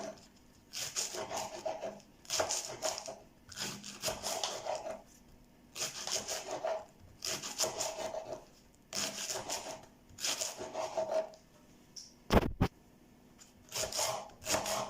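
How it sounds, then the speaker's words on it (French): Knife chopping leeks into small pieces on a board for a leek tart, heard as repeated bursts of rhythmic cutting strokes, close and moderately loud, with a single sharp knock near the end. "Je continue de découper mes poireaux en petits morceaux."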